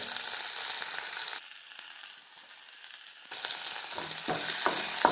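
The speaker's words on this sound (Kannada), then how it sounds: "ಸೊಪ್ಪನ್ನು ಚೆನ್ನಾಗೀಗ ರೋಸ್ಟ್ ಆಯ್ತು" Leafy greens sizzle and crackle as they roast in a pan for tambuli, close and steady, easing off briefly in the middle before the frying hiss returns with light stirring clicks.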